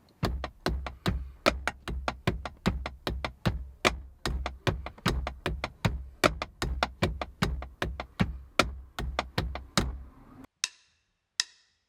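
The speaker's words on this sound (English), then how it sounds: "if we put all the ghost notes and the bass drum in, the whole pattern would sound like this." A busy 12/8 drum groove with a rolling triple feel, bass drum thumps under crisp hits and soft ghost strokes, ending with a couple of isolated cymbal hits.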